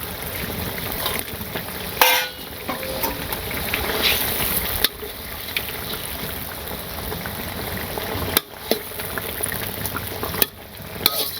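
Fish curry with garam masala sizzling and bubbling in a pan, a steady loud frying hiss with occasional stirring clatters and brief sharp knocks.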